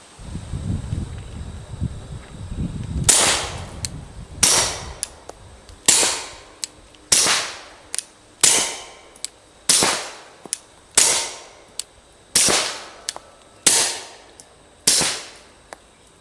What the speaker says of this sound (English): Let's put a few rounds through the Osprey one by one.